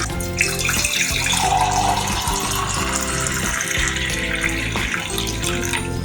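Homemade lemon drink pours into a glass in a continuous splashing stream. It stays loud and steady for several seconds with no one talking.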